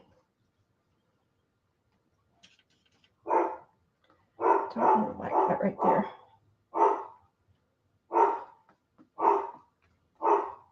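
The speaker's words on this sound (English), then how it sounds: "pardon my dog, probably barking at either a delivery or someone walking." A small indoor dog barks repeatedly, probably at a delivery or passer-by, with a cluster of quick barks followed by evenly spaced single barks, fairly close. A person speaks briefly between them.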